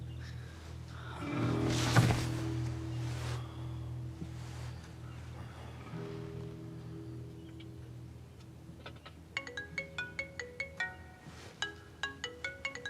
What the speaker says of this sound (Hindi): रॉय, जल्दी फोन उठाओ, जल्दी से फोन उठाओ।